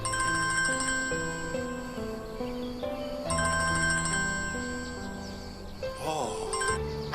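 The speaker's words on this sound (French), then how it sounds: "Denis, votre téléphone sonne." A telephone ringtone plays a bright, repeating melodic pattern in two bursts with a short pause between, loud and near, followed by a brief sliding electronic tone and a final snippet of the tune.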